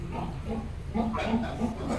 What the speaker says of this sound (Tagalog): talaga pong nagugulat ang ating mga baboy